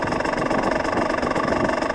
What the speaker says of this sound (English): just getting the engine up to temperature